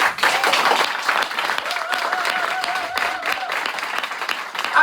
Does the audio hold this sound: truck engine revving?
no